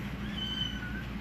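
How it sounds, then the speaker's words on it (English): A kitten gives a single drawn-out, high meow close by, with a steady low background hum and no talking. "So a good Sam brought us a kitten here."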